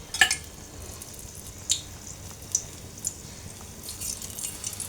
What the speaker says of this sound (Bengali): তো এভাবে সবগুলো ফুল আমি একে একে ভেজে নেব